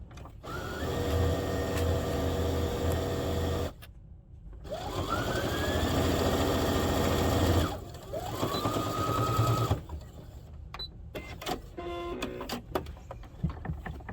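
A sewing machine stitches a soft padded figure skate guard in three long, loud mechanical runs broken by short pauses, followed by quieter scattered clicks and handling noises.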